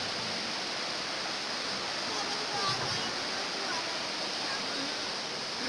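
Continuous broadband rush of river water flowing past the bank of the Krueng Sawang, steady and fairly loud, with faint voices of people cooking outdoors in the background.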